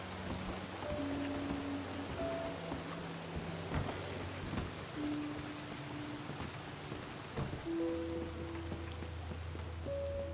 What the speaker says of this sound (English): Blaze, come inside, it's raining.